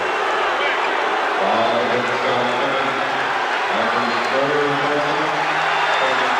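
A basketball arena crowd murmurs and stirs during the 1991 NBA Finals Game 3 between the Bulls and Lakers, a steady wash of crowd noise under a commentator's voice.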